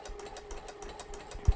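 Sewing machine stitching a regular zigzag with a flower stitch foot, a quiet rapid mechanical whir with faint repeating needle ticks, then a few louder low thumps at the end.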